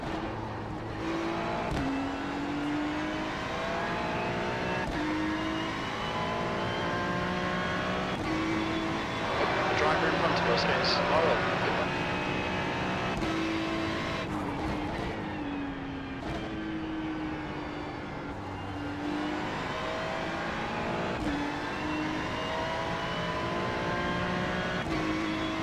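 Race cars circle the Mugello track in the iRacing sim, engines rising and falling through gear changes with repeated upshift dips, a dense pack of cars audible under occasional talk.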